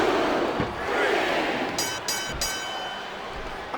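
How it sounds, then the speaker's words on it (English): Arena crowd chanting in the WWE SmackDown vs. Raw 2007 video game during a Batista versus Regal match, a broad steady roar of many voices with a few sharper bursts partway through. "I'm not sure I agree with what the crowd is chanting, JR, but I guess it's their right."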